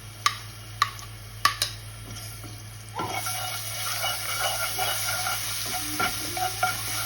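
Garlic paste frying in a karahi with whole black peppercorns: a few sharp clinks of a spoon, then a steady crackling sizzle as it is stirred, close and with no talking.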